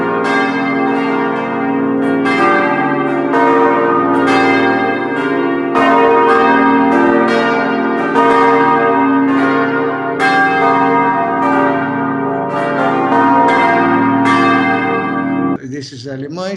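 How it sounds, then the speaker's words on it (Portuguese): A set of five church bells rings in a steady, overlapping peal, loud and resonant with long ringing tones, and a voice comes in briefly near the end. "Aqui, então, temos a composição de 5 sinos."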